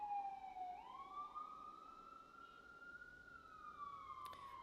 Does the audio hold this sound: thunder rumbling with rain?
no